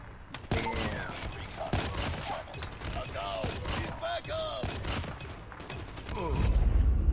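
Sniper rifle shots in Call of Duty Mobile: several sharp, separate cracks spaced irregularly through the clip, mixed with other game sounds and speech.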